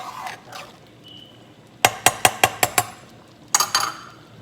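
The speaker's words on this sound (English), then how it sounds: "Go ahead and give it a good stir." Metal spoon clanks against a pot of seafood gumbo with smoked sausage and shrimp, a quick run of six sharp, close clinks followed by a second short burst, with quieter scraping before.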